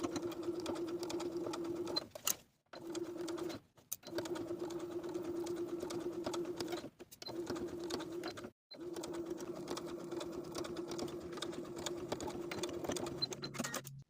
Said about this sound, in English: I'm going to stitch in the ditch from the outside of the garment all around the top of the waistline